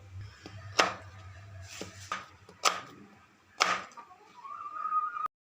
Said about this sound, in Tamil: மாங்காய் கட் பண்ணியாச்சு